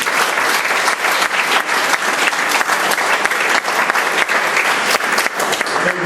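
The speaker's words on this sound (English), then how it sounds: "So should we just give Paula a round of applause?" A round of applause at a project launch event, loud continuous clapping from a crowd that holds steady for several seconds without talk.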